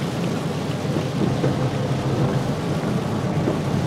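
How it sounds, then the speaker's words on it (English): Heavy rain pours steadily near the flooded Pea River in Elba on Christmas Eve, a dense, loud, constant hiss with a deep rolling rumble of thunder blended underneath, no voices present. "the rain is still coming down."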